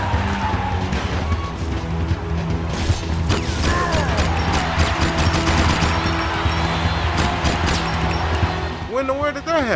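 Rapid gunfire and mechanical impacts in the Jak 3 video game, dense bursts of shots over a constant engine-like drone, crashes and skids mixed in throughout, with a voice speaking over it.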